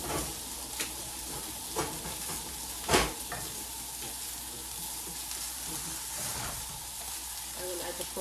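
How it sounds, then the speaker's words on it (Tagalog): Chopped garlic sizzles and crackles steadily in a hot pan for garlic buttered prawns, with a few sharp stirring knocks and clatters, close and continuous throughout. "So I have added now the garlic."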